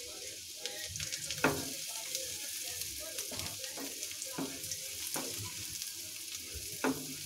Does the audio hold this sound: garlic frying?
yes